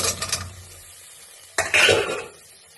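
Carrots are tipped into a pot of stew vegetables with onion, potato and green chilli. A short clatter and stirring rattle comes first, then a pause, then a louder burst of tumbling, scraping pieces close by.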